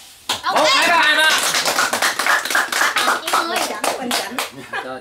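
A group of people clapping together in quick, sharp, fairly rhythmic claps, loud and close, with excited voices calling out over the applause.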